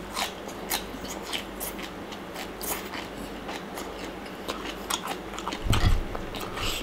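Crunchy chewing of pounded stink bean salad with blanched shrimp, close and crisp bites repeating steadily, with a brief louder thump near the end and no speech.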